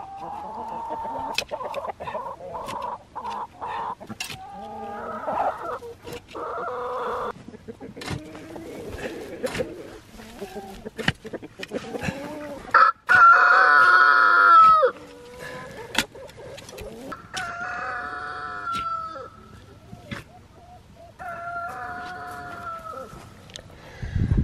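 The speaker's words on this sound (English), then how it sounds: "these chickens are out here. They're so productive, they're so full of life." Backyard chickens cluck and call throughout, with short bursts and one loud sustained crow partway through, close by and fairly loud, busy flock sounds scratching around in the ground with no talk over them.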